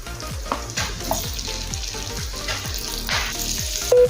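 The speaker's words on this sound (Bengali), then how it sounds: "এখন দেবো একটা মিডিয়াম সাইজের পেঁয়াজ" Medium onion frying in hot oil with whole cumin seeds for a shahi paneer gravy, a steady close sizzle broken by repeated stirring scrapes and clinks, with no talking.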